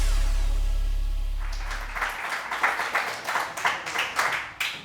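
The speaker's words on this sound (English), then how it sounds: "they even clapped" A live studio audience clapping, starting after a low rumble fades and building into steady rhythmic applause of several claps per second, fairly close and alone.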